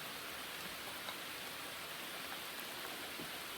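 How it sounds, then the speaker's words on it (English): Steady rain falls outside in California, a constant soft hiss of drops with faint scattered patters and no voices. "I hope you can hear me with all that rain."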